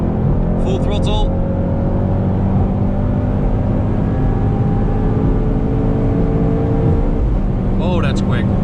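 A Mercedes-AMG GT 63 S from 2020 pulls hard at full throttle, its engine roaring steadily and loud throughout, with tire and road noise underneath and a voice speaking over it.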